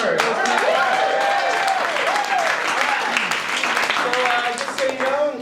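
An improv comedy audience fills the room with dense, sustained applause that carries on throughout. A voice talks over the clapping the whole time.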